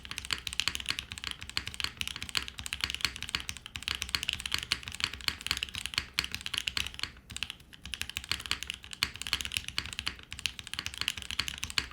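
Fast typing on an Ayleen TKL mechanical keyboard with an aluminum split plate, a steady stream of soft, muted key clacks with no pauses, fairly quiet and close, with no voices.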